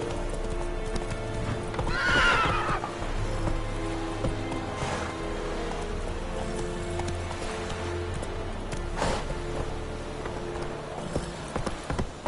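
Hooves clip-clop steadily as a horse gallops in The Witcher video game, with a couple of loud neighs and whinnies breaking through the close, continuous hoofbeats.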